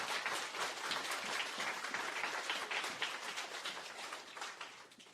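Applause at an outdoor justice rally in San Francisco, a dense, steady wash of many hands clapping, faint and distant, fading slightly toward the end with no talk over it.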